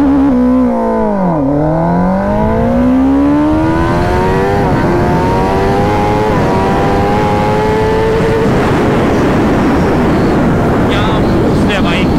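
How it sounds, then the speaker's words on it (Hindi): A Kawasaki motorcycle launches at full throttle, its engine note climbing loud and close through the gears in rising sweeps, with a brief dip and then a rush of wind noise as it speeds away. "चलो अब दिखाता हूँ आपको लॉन्च करके, और कैमरा रिकॉर्ड कर रहा है फुल थ्रॉटल।"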